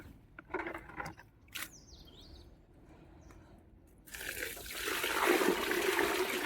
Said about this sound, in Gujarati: હવે પાણી ભરી લઈએ.